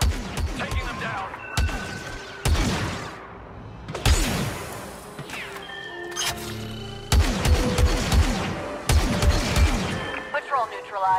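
Star Wars Battlefront 2 cutscene blaster fire: repeated volleys of zapping, pitch-sweeping laser shots in several bursts, loud and close, with people talking between and over the shooting.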